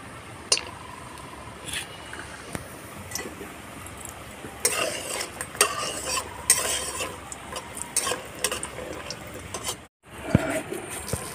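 Bori lentil dumplings frying in mustard oil in a wok, a soft sizzle under repeated scraping and stirring clatter, louder in the second half, with a brief break near the end.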